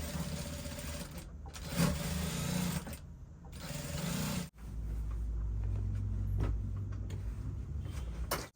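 A sewing machine top stitches the standing collar of a bubu dress, running in a steady close whir with brief stops and restarts and a low motor rumble.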